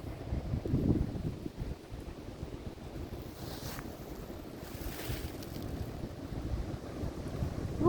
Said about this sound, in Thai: ลมมันแรงเกินไปที่จะกลับบ้านแล้ว